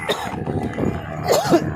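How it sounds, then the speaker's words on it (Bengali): A single person walking through snowfall in cold weather gives a short, rough cough with a throaty catch, close and fairly loud against quiet outdoor air. "সরি, একটু কাশি হচ্ছে"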